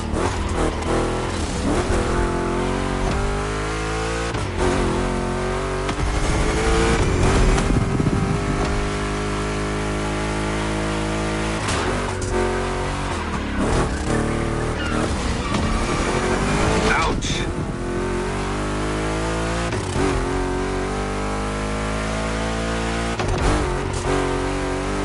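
Two big-block Chevy cars racing in The Crew Motorfest, deep engines roaring loud and close with repeated revving climbs and gear shifts, a voice talking over them at times.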